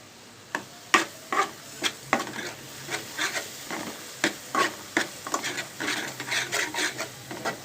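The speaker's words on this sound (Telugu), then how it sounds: "ఇప్పుడు ఒకసారి మూత తీసేసి మంచిగా కలుపుకుందామండి." A pan of egg drop curry with tomato and water is stirred, a utensil scraping and knocking against the pan in repeated uneven strokes over a soft background sizzle, close and moderately loud.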